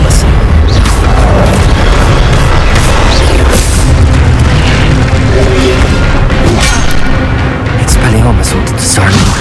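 Expelliarmus spell blasts in the video game Hogwarts Legacy: loud, heavy booming impacts and crashes pound continuously at close range, with voices mixed in among the hits.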